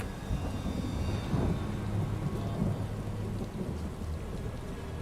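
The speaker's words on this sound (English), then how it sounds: "It's raining. I love raining in games, especially when it's like this." In-game thunderstorm with steady rain falling on surfaces and low rumbling thunder rolling underneath, continuous and fairly full, with no voices.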